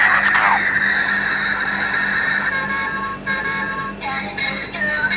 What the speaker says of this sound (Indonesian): Wah, ada superhero Batman naik motor teman-teman. Ayo kita ambil dan kita nyalakan.